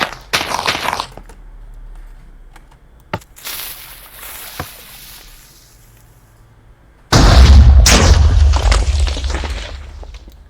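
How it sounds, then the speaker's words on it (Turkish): Minecraft TNT blasts from a homemade TNT cannon: several sharp explosive pops early on, quieter scattered bursts, then a big loud booming explosion that rumbles and decays. "Sonra bunlar patlıyor, bunu uçuruyor. Bu da oraya gidip patladığında TNT silah işte."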